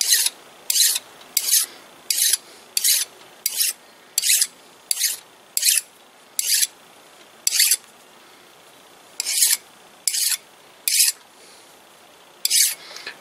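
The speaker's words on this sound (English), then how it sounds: "we'll just go ahead and file that off there right now, slick that up and be done with that" A hand file rasps across metal on a part from a 1946 Logan model 200 lathe, about fifteen sharp strokes in a steady rhythm with brief gaps, close and crisp.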